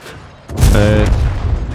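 A single tank cannon shot in World of Tanks lands as a loud, close boom with a rumbling tail that lingers for over a second.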